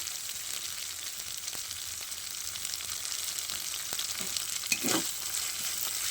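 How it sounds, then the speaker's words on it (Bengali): Fish sizzles and fries steadily in a hot pan of oil, a continuous crackling hiss close by with occasional stirring scrapes, no voices. "সুন্দর করে ভেজে নেব।"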